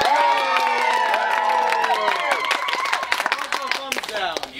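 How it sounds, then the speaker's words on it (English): An improv show audience claps and cheers, a dense wash of applause with shouting voices over it, gradually thinning into scattered claps. "You are all going to vote with it with your applause."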